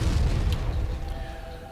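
A grenade launcher explodes in the video game Firefall, a heavy low boom that rolls off into a fading rumble over under two seconds, with no voices.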